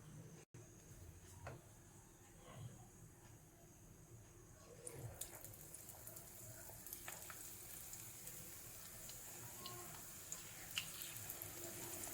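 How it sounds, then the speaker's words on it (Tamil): Raw banana bajji pieces fry in hot oil, a steady close sizzle that grows denser and brighter as more battered pieces go in, with faint stirring clicks. "இப்போ ஒவ்வொரு பீஸாக இப்படி எடுத்து இதை இப்போ ஃப்ரை பண்ணி எடுக்கலாம்."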